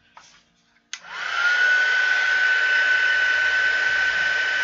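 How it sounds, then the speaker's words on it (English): Heat tool switched on for heat-setting embossing powder, a brief click and then a loud, steady blowing roar like a hair dryer with a constant whine, close up and unbroken to the end. "it's going to get a bit loud because I've got my heat tool on"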